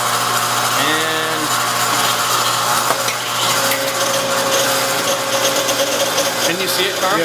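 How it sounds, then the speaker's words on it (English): Hydraulic stress-testing machine loading a wooden spar with plywood plating to the point of compression failure, a steady loud mechanical drone with whining tones, while people talk over it. "time to turn on the machine and see if we can break this spar"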